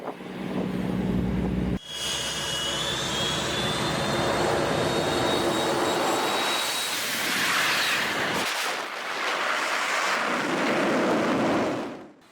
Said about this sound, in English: The moment the F-35 Lightning II begins its takeoff roll